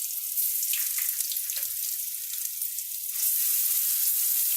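Garlic-ginger paste hits hot oil already holding nigella, fenugreek and cumin seeds for a bottle gourd curry, giving a steady close sizzle and hiss that runs throughout with no voices.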